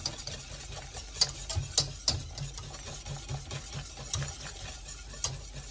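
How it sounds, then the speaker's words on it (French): Lemon curd whisked in a pan off the heat, soft repeated scraping and ticking strokes of the whisk against the metal at a steady rhythm, faint and close. "Et je continue à bien mélanger."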